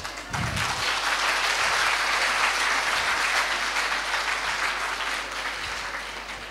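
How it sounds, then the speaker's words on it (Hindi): An audience at a Hindi poetry recital applauds, a steady wash of clapping that swells quickly and fades slightly toward the end. "ये यूं ही वाली ताली लगी मुझे"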